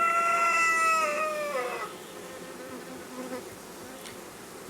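Honey bees buzz around an open Cedar National hive during an inspection on a farm. The loud, dense hum starts close and then fades to a quieter, steady drone.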